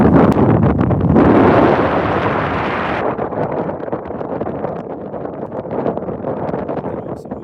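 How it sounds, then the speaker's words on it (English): Strong wind roars and buffets the microphone in heavy rushing gusts on a bass-fishing boat drifting on water, loudest at the start and then easing into steady blustery rumble. "Some big, huge wind gusts."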